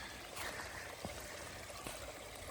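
A small stream on the Appalachian Trail flows and trickles steadily at close range, a continuous gentle wash of water with faint gurgles and no voices.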